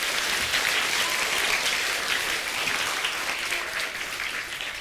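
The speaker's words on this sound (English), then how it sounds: "Give him a round of applause, guys." An audience claps in steady, dense applause that carries on evenly and tapers slightly at the end, with no talk over it.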